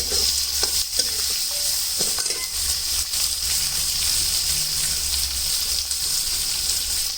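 Chunky-cut onions and a bay leaf fry in hot oil with spices, giving a continuous loud sizzle and crackle close by, with occasional utensil knocks and no talking.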